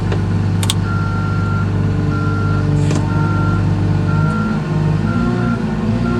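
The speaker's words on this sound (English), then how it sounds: "Now back away from your pile." A front loader backs away from a pile, its repeated reversing alarm beeping over the loud, steady rumble of the diesel engine close by.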